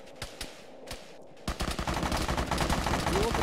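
Rapid bursts of automatic gunfire in a military video game, starting with a few sparse shots and then erupting into loud, sustained fire after the first couple of seconds.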